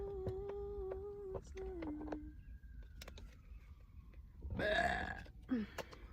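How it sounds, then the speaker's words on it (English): A loud, drawn-out burp rises and falls in pitch, followed after a pause by a second shorter belch, heard up close over low background rumble with no speech. "That was an obnoxious ass, Shrek ass burp."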